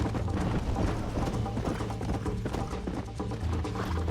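Horse hooves clip-clop in a steady, close rhythm inside the Red Dead Redemption video game, with no voices over them.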